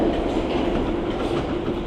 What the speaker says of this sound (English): I'm going to get on this Piccadilly line train.